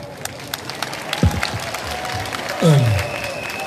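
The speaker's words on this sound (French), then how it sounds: "On applaudit très fort le SGA Jacques Niaé." A crowd at a 2019 political rally in Guiglo, Côte d'Ivoire, claps and cheers in a short, moderately loud burst of scattered clapping mixed with background crowd noise.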